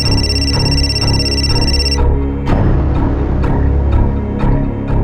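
A telephone rings during a call, a steady electronic ring tone that cuts off and gives way to repeated short sharp clicks or beeps against a loud droning background, with no talking.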